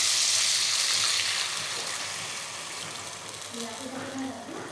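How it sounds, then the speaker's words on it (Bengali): Water poured into a pan of frying spice masala for a raw banana kofta curry, giving a loud, bright hiss and sizzle that slowly fades into a softer bubbling simmer. "মশলাটা কষানো হয়ে গেছে এবার জল দিচ্ছি"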